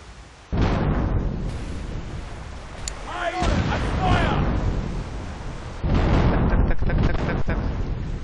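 Ship cannon fire in the pirate video game The Pirate: Caribbean Hunt, heavy booming blasts with rumbling tails, two loud shots several seconds apart among game effects.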